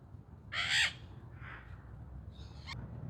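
A white-eyed parakeet, the periquitão araguari, gives harsh screeching calls in a short loud burst, then a fainter squawk and a brief high shriek, close by over steady low background noise.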